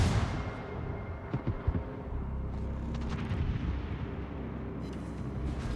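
Secondary guns of the battleship Atlantico in World of Warships fire a salvo, a dense roll of overlapping booms and rumbling blasts over a steady low game-engine drone, with a few sharper cracks standing out.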